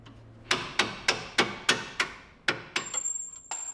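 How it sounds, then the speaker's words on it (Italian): A hammer strikes a Ford Capri suspension arm about nine times in a steady rhythm, each blow a sharp, close metallic knock with a short ring, with a brief pause before the last few hits. "uso tutto il mio peso per cercare di spingere in giù il braccio mentre lo colpisco con il martello"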